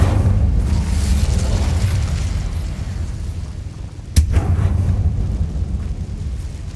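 Incendio fire spell cast in the Hogwarts Legacy video game, a sudden whooshing burst over steady rumbling game ambience, one sharp flare partway through with no talk.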